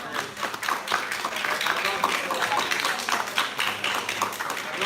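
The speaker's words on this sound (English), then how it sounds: "I'm not sure if you can hear the applause" An audience at a Cave Hill guild elections debate claps steadily in a soft, dense patter that stays fairly faint and distant, with some talking mixed under the applause.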